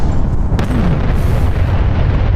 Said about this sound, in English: it's almost like a 2-stage explosion where you have the initial burst of the thing you created